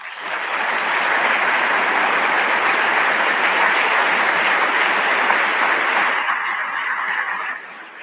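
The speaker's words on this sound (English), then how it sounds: "I think part of that applause was for you" Large audience applauding at an annual meeting, a dense sustained roar of clapping swelling in after a second, holding steady for several seconds, then fading out near the end.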